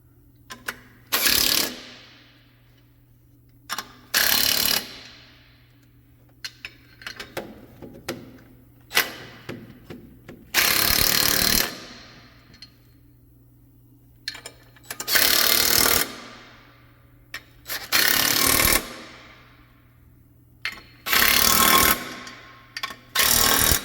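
Clutch bolts are run down in a crisscross pattern with a power tool, giving about seven loud, buzzing bursts of roughly a second each, separated by quiet gaps with faint clicks and a low hum.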